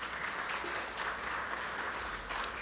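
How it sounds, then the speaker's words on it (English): Audience at a morning presentation on Legionella and cooling towers clapping for two presenters, a dense, even patter of applause that holds steady at moderate volume throughout. "let's give them a round of applause"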